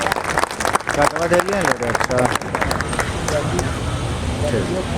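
Loud applause from a crowd at a protest rally welcoming a guest, steady clapping that runs throughout, with voices talking over it in the first half.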